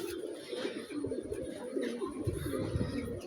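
Pigeons coo softly and repeatedly in low, rolling calls, close by, with a faint background hiss.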